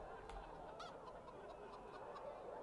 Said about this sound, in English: Oh, there's chickens in there too.